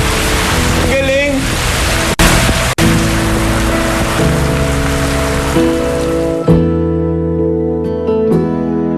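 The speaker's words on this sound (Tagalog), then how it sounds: "Oo, ulan ang tawag dyan." Steady rain falls in a dense, hissing wash over a tonal musical backdrop, then cuts off abruptly near the end, leaving only the music.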